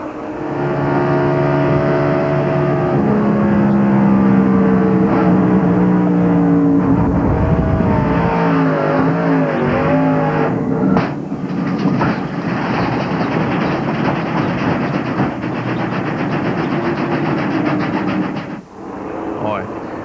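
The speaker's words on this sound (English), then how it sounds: "Hear the car grinding to a halt and the sheet metal all pushed in." A 1997 ARCA stock car crashes at Atlanta Motor Speedway: a loud, sustained roar and scraping grind as it skids and drags along with crumpled sheet metal, sharp metallic clatter, tapering off near the end.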